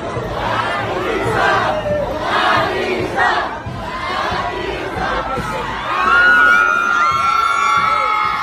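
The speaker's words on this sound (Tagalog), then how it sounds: "Makikitang sigawan ang mga taong nag-aabang sa daan sa homecoming parade na ito ni Atisa Manalo" Crowds lining the street at a homecoming parade shout and cheer loudly and continuously, with rhythmic chant-like swells and a rising burst of shrill screams and whoops toward the end.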